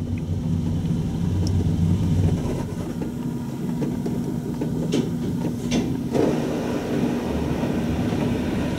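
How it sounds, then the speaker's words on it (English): Tire scrubbers run inside a Mark VII GTO-300 automatic car wash in Springfield, Missouri, giving a loud, steady mechanical rumble and whir that holds throughout, with faint brief knocks mixed in. "That's probably the sound of the tire scrubbers, which do seem to work."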